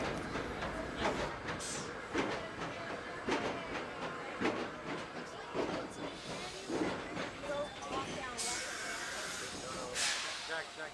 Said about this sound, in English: At around 10:45, the train returns.